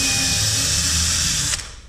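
A power drill with a 3.5 mm bit widening a hole in drywall for an electrical box, a loud steady motor whine close by that cuts off and winds down near the end, no speech.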